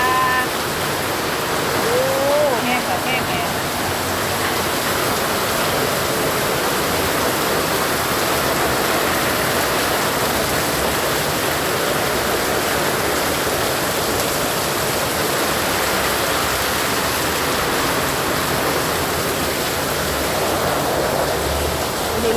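Heavy rain pouring down outdoors, a loud continuous dense hiss with no pauses, close and steady throughout.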